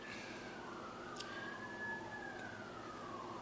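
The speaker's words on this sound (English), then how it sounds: "I got some sirens in the background" A wailing siren rises and falls in the distance, faint behind steady low traffic rumble, with a short sharp click near the middle.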